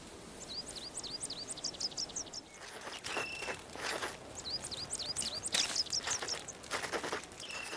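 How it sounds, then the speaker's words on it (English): Birds chirp in quick repeated trills over soft rustling and footsteps in a video game soundscape, the high calls coming in bursts against a quiet outdoor background. "the soundscape of 16 carefully researched bird species"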